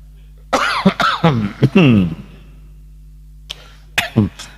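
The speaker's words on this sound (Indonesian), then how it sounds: "ada yang batuk" Several sharp coughs in a quick burst, close up, then a pause of near silence before two or three more coughs.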